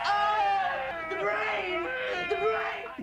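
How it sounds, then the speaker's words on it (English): A zombie, a fresh cadaver in the horror film The Return of the Living Dead, lets out a long, loud, wavering scream with a high, shrill tone that holds for about three seconds. "Oh, it screamed!"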